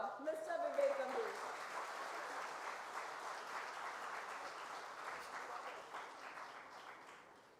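Audience applauding at a university convocation for the class of 2024, a dense steady clapping from a large crowd that starts loud and slowly fades out, with a brief voice near the start.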